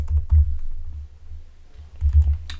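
Keys clatter on a computer keyboard as a Laravel command is typed, a short burst of close clicks with a pause before another quick cluster near the end.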